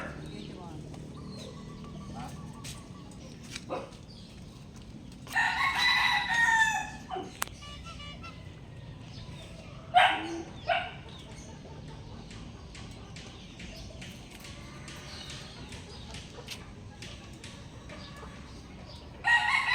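Stag roosters crow several times, mostly distant and moderately loud, with a couple of closer crows and soft clucks over a quiet outdoor background, and people talk faintly at times.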